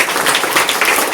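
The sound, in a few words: audience applause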